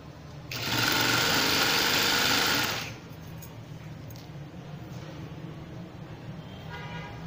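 A sewing machine stitching a frill hem on a baby frock runs in one loud, steady whirring burst for about two seconds, then stops, leaving quiet room noise.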